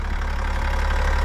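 A GMC Sierra 1500 with the 3.0 Duramax diesel idles under an open hood, giving a loud, steady close-up drone with a continuous rattling clatter.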